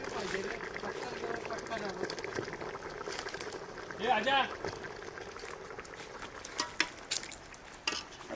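Mutton curry bubbles at a rolling boil in a pot, a continuous soft burble with a few louder pops and clinks toward the end, with a voice talking over it.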